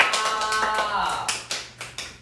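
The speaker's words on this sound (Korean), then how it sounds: "박수!" A group claps hands a few times in a row while a speaker talks over them, short sharp slaps spaced irregularly at moderate volume.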